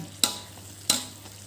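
Beef lung simmering in balado chili sauce in a pan, with two sharp scraping stirs of a spatula over a low steady sizzle, close and fairly quiet.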